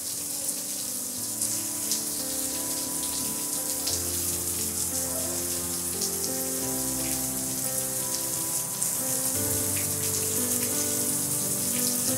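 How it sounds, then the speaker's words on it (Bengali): Steady rain falls, a dense, even patter on surfaces that continues throughout at a constant level, with no voices. "চিত্রা চিত্রা ভিজে যাচ্ছ, তুমি বৃষ্টিতে ভিজে যাচ্ছ"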